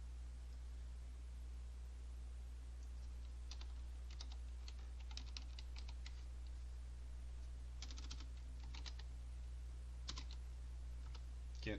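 Keys clatter on a computer keyboard in scattered quick bursts over a steady low hum, the tapping faint and intermittent with pauses between runs, no voices.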